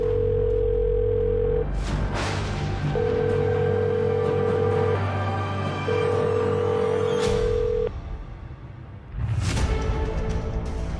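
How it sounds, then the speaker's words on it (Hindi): A phone ringback tone repeats in long steady beeps with pauses, three rings going unanswered over other background sounds. "चड्डा फोन क्यों नहीं उठा रहा?"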